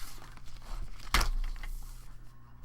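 A single close snip of scissors cutting paper apart lands as one sharp crisp cut in the middle, set against a low steady room hum.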